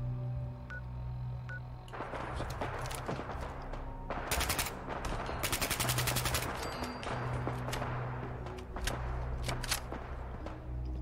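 Rapid bursts of gunfire crackle in a Fallout video game, firing in quick rattling runs of shots at a moderate distance over a steady background hum.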